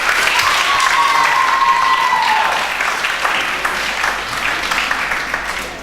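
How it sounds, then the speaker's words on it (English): Steady audience applause at a school reading competition final, a dense wash of clapping that gradually softens, with a faint tonal sound drifting through early on. "Please give him another round of applause"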